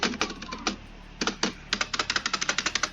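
Clacky mechanical keyboard typing in quick bursts with brief pauses, close and crisp, ending in a steady run of evenly spaced keystrokes.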